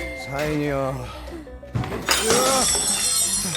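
Drink cart crashing into a barbecue restaurant, a sudden loud shattering smash with breaking debris that bursts in after a pause and rings on, preceded by a voice talking.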